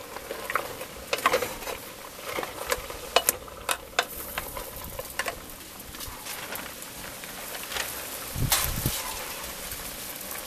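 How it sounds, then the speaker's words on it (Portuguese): A pot of tripe and cow's foot stew boils, giving a continuous close crackling patter of bubbles with scattered sharper pops, like light frying, with no talking. "tá fazendo barulhinho, ó, dela fervendo"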